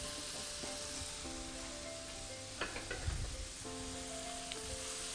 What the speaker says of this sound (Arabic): خلوا البصل تاعنا يتقلى مليح